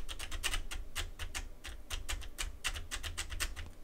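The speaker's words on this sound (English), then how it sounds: "I don't know if you can hear my clickety-clack, but it's me typing." Quick, uneven keystrokes tap on a computer keyboard at close range, a steady clatter of light clicks with no talking.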